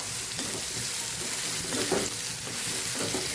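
Ridge gourd sautés in a generous amount of oil while being stirred, giving a steady close sizzle and frying hiss with soft scraping stir strokes throughout.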